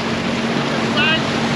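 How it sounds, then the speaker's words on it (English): A boat on the Niagara River near Fort Erie holds its engine at crawl against a strong reversed current, giving a steady, close drone under wind and water wash, with a faint higher whine partway through. "The current, I mean, my engine's going"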